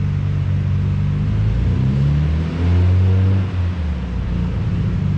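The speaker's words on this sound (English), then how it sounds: "So I'm gonna give it a little revs" A Nissan Skyline R33 GT-R engine revs up loudly with a deep, rumbling roar, rising and falling in pitch before settling back, close by with no talking.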